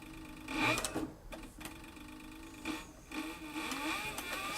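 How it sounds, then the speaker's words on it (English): A Cowboy CB4500 leather sewing machine with a servo motor stitching leather slowly, its motor hum and needle thumps rising and easing in short bursts, fairly faint with no talking. "I'm sewing without a guide."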